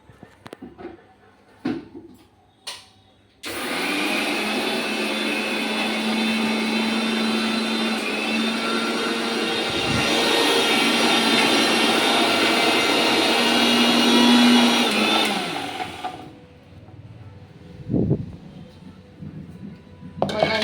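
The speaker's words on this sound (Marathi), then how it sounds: "मी ही चटणी आता मिक्सरला लावून घेते आणि तुम्हाला दाखवते कशी बनवते" A mixer grinder whirs loudly and steadily for about twelve seconds, grinding chutney, then winds down with a few clinks before and after.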